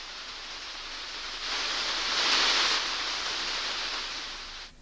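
Heavy stormy rain roars as a steady broadband hiss that swells louder midway and then eases, with no distinct hail impacts standing out.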